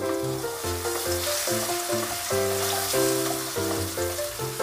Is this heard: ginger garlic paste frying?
yes